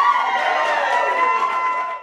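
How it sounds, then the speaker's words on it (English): Loud crowd cheering at a BC legislature gathering for newly named Premier John Horgan, a dense sustained roar of many voices with whoops and chatter, steady for about two seconds before trailing off. "You heard the loud cheer there"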